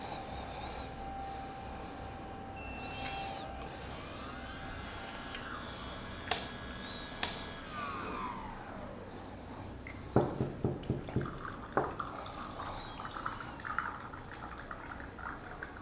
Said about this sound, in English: I'm going to clean up the machine a little bit because we are using different beans now.